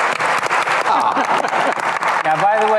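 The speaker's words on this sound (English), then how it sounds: "what we just did is called the percussive clap" A conference audience claps in a loud, dense burst of applause meant to raise the room's energy, a steady wash of many hands close to the microphone with a voice emerging at the end.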